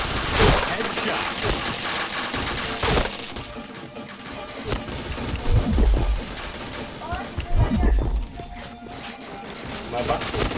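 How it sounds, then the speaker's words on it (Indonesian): A video game shooter's gunfire crackles in rapid bursts and single shots, with impacts and explosive thuds mixed through a busy, loud game soundscape, a voice talking over parts of it. "Astaga, gak kena aku nembak."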